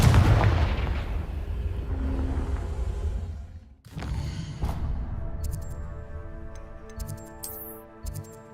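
Confringo blasting spell cast in the Hogwarts Legacy video game, heard as a loud sustained booming rumble that cuts out briefly, then a sharp blast followed by ringing, chiming magical tones and soft ticking.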